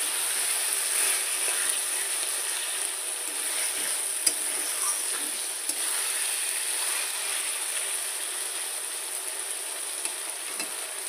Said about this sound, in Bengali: ছতু দেখবে ভাজা হচ্ছে, এখন তেল ছাইড়ে দিচ্ছে